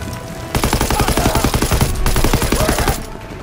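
Rapid, loud machine-gun-like bursts from an AA gun in the World War II shooter Call of Duty WW2, rattling in one continuous stream for about two and a half seconds.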